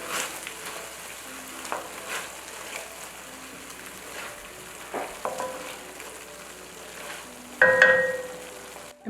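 Scrambled eggs with tomatoes are stirred in a pot, giving soft scraping and sizzling with a few light knocks against the pot, then a short bright beep near the end.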